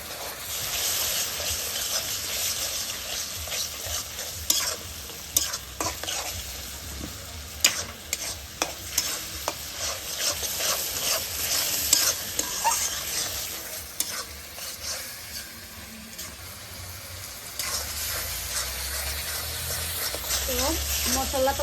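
Spice paste of ginger, cumin and garam masala frying for rohu fish kalia in a village kitchen, a steady sizzle with repeated stirring scrapes throughout and a voice faintly heard at times.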